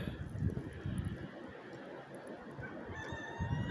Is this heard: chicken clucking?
yes